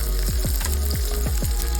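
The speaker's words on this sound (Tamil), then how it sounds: "அடுத்து சின்ன வெங்காயம் நறுக்கி வச்சதை 10-15 நறுக்கி வச்சுருக்கோம்ல, அதை எண்ணெயில் போட்டுங்க." Chopped shallots sizzle and fry in hot oil for an onion coconut chutney, a close, steady crackle with repeated soft bubbling pops.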